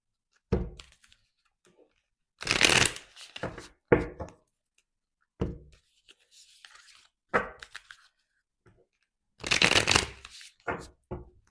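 Tarot cards are shuffled in several short, crisp riffling bursts with quiet gaps between them, close up and fairly loud, along with a few light taps and thumps.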